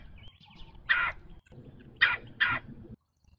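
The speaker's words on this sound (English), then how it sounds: "these birds have a distinctive call" A red-bellied woodpecker gives three harsh, rolling calls: one alone, then a close pair after a pause, over a quiet low background rumble.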